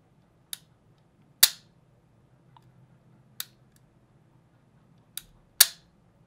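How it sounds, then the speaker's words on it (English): An IWI Jericho 941 pistol has its trigger pulled in double action, giving a few sharp, separate mechanical clicks and snaps spaced irregularly over several seconds. They are close and crisp, against quiet, with no voices. "So the trigger in your double action form is going to look like this."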